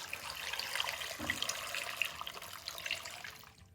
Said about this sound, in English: now we're going to add in 10 cups of cold water